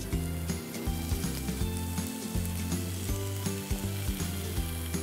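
Stuffed zucchini sizzling steadily on a grill, a close, even frying hiss with a faint low hum running through it and no talking.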